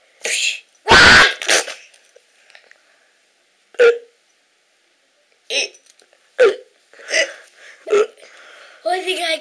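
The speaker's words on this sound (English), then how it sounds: "I think I got the hiccups too." Hiccup-like sharp vocal bursts come in an irregular series, several short separate catches spread across the clip, close and fairly loud, with a louder burst near the start.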